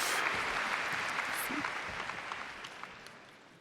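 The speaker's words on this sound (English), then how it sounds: "Another round of applause" Steady applause from a large crowd of over 3,000 people at an opening ceremony, broad and sustained, gradually fading over a few seconds with no talk on top.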